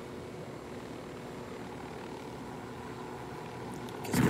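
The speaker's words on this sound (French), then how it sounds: "on a un hélico, on va en profiter." A helicopter in the video game Ghost Recon Wildlands drones steadily with a low rotor and engine hum throughout, swelling louder in a sudden burst at the end, with no talk.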